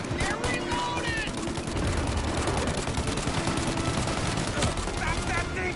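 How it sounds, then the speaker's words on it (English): Dense, rapid gunfire fills a shootout in the video game Mafia Definitive Edition, with loud, continuous bursts overlapping and voices shouting underneath. "Stop that thing shooting!"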